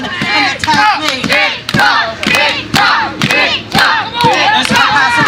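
A capacity crowd at a small indoor wrestling trainee show roars and chants in loud rhythmic bursts, with thuds and shouting mixed into the continuous noise.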